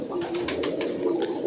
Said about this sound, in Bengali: ওস্তাদের বাড়ির পায়রা, খোপের পায়রা